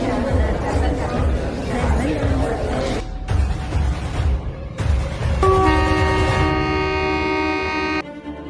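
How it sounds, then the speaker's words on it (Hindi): A cartoon train runs with no driver aboard, a rolling rail rumble under crowd chatter, then a sustained horn-like tone sounds over the last few seconds before cutting off. "ये ट्रेन ऑटोमेटिक चल रही है।"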